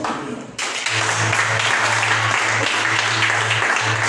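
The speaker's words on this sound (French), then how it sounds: "Donnez un bon applaudissement." A church congregation breaks into applause, a dense burst of clapping rising suddenly and continuing steadily, accompanied by a low sustained hum underneath.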